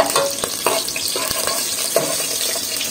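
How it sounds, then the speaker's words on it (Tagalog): Garlic sautéing in oil for pakbet, a loud, steady broadband sizzle with sharp utensil clacks against the pan as it is stirred, no voices. "Igisa ang bawang."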